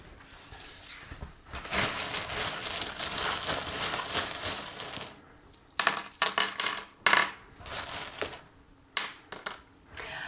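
Small charms tossed for a divination reading, clattering and jingling like dropped coins in a long rattling spill, followed by several shorter clinking bursts separated by pauses.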